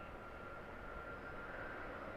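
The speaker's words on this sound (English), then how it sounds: "Oh, that's a train going by." A steady, distant rumbling drone with a faint whine holds at an even level throughout, heard from the top of a parking garage by Harrisburg airport at night, as a train passes out of sight.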